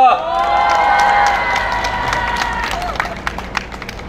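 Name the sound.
crowd applauding and cheering a guest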